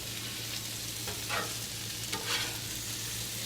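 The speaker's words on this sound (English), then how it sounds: "I'm getting a good crust on the hamburger steak." Hamburger steak fries in a pan with a steady, fairly quiet sizzle, with a couple of soft scraping or stirring sounds mixed in and no talking.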